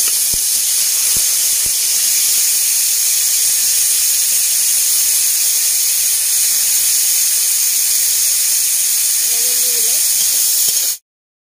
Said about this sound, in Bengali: এবার ফুলকপি আর পেঁয়াজ কলি একসঙ্গে ভেজে নেব।